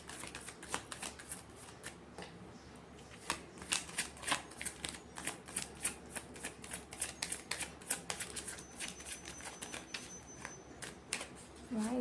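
Tarot cards are shuffled close by in quick, crisp flicking riffles that run in uneven bursts, and a voice speaks softly underneath.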